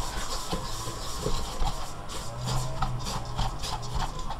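Almond paste mixture is worked in a bowl, a loud, steady scraping and rubbing with repeated thick strokes and dull knocks, close up and continuous without speech.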